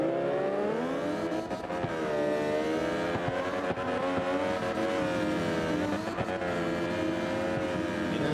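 Honda NSX drifting during practice at a slide style event, its engine roaring continuously with rising and falling revs and constant wail, loud and close throughout with no break.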